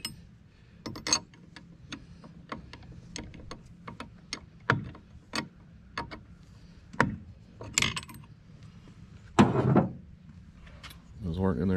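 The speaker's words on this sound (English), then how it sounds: "13/16 wrench." A 13/16 wrench works the spark plugs out of a Mariner/Yamaha 8 hp outboard motor, giving a string of close, sharp metallic clicks and clanks in an irregular rhythm, with speech between them.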